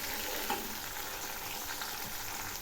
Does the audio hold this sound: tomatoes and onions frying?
yes